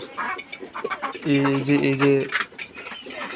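Farm chickens, a flock of about fifty to sixty birds, clucking nearby with a burst of loud, harmonic calls in the middle of the clip and softer clucks around it.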